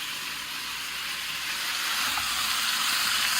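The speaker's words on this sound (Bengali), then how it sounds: "ফ্রাই করবো আর একটু।" Meat frying in a pan at home: constant bright sizzle and crackle, close and fairly loud, rising slightly toward the end, no voices.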